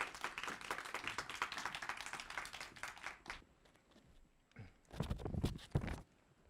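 An audience at a big-data course final presentation event claps in a dense, quiet patter for about three seconds before it thins out, followed by a few scattered louder knocks and shuffles.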